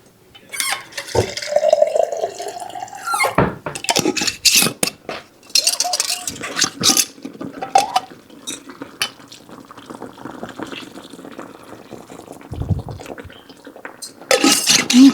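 Kitchen sounds while cooking a cowboy pie: water running from a tap in bursts, with pots and utensils clinking and clattering in between, all fairly close and irregular.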